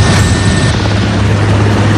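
A loud, constant helicopter rotor drone with a low steady hum filling the whole clip, close and unbroken.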